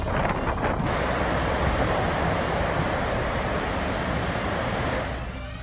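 Steady wind roars and waves wash along the Lake Michigan shore at Glen Arbor, Michigan, a dense, continuous rush that stays loud throughout and eases slightly at the very end.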